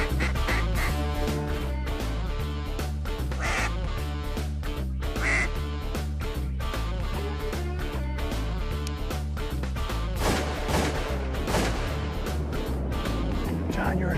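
Mallard ducks quack repeatedly during an Arkansas duck hunt over flooded timber, with a busy, continuous layer of calls and other sounds, while people talk over them.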